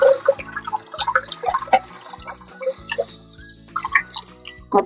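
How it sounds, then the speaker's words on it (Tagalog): Saluyot (jute) leaves are rinsed under a running tap after soaking in salted water, giving a steady trickle of water with scattered drips and splashes as the leaves are handled close by. "Hugasan ko lamang po ng running water kasi binabad ko po ito ng may asin."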